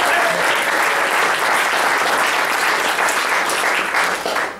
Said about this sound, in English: but let's give Mr. Johnson a big round of applause for James.